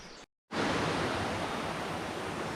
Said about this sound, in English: Here is waterfall number 2.